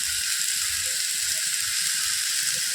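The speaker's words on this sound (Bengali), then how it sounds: "একটু হলুদ দিয়ে ঢেকে ভালো করে ভেজে নেব" Beet paste frying with salt and turmeric in a covered pan gives a steady, even sizzle that holds at one level the whole time, close and continuous with no talk.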